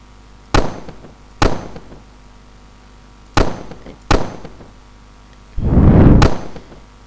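Gunshots from a sandbox video game, four sharp separate bangs spaced unevenly, followed by a longer rumbling burst of particle effects, loud and without speech.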